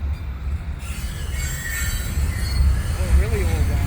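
A CN freight train of hopper and gondola cars rolls through the Atwater curve at dusk, a low rumble of wheels and cars with squeals rising near the end, passing close by.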